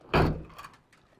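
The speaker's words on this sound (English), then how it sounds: "Kicks the wrong side of the door." A single heavy door kick lands in the Battlefield 3 campaign, a sharp close thump that quickly fades into a few faint rattling echoes.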